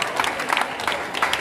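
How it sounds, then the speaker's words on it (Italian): An audience applauds at a football club's first-team presentation, with close, uneven clapping and crowd noise and some voices mixed in. "Chiederei un applauso"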